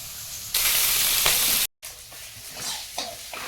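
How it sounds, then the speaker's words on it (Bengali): Fish fries in oil in a home kitchen, giving a loud, close hiss of sizzling that cuts out briefly and then returns as a softer crackle. "এখন মাছ ভাজা হচ্ছে"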